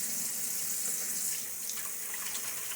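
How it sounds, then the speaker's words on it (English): Water from a tap runs and splashes steadily at a sink during a wet shave, close and continuous, a bright hiss with small spattering bursts. "A little splash of water."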